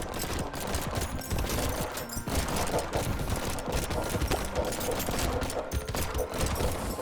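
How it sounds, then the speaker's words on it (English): Turrets firing in the video game Brotato, a dense continuous rattle of rapid overlapping shots with fast pattering hits throughout, loud and steady with no pauses. "we're basically gonna cover the stage in turrets"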